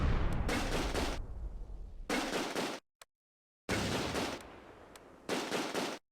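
Heavy machine gun fire from a German Schweres squad in the Close Combat war game, loud sustained bursts of a few seconds each broken by short silent gaps.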